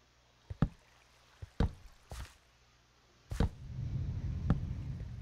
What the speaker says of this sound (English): Cave noises to freak me out.